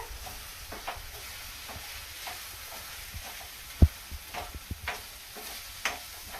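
Mango fish curry being stirred in a pan, with scattered scraping clinks and a faint sizzle underneath, one sharp knock standing out midway, no voices.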